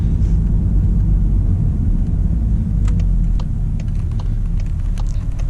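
Engine of a 2024 Volkswagen GTI MK8 with DCT gearbox, heard from inside the cabin as a loud, steady low rumble with faint clicks above it and no talking.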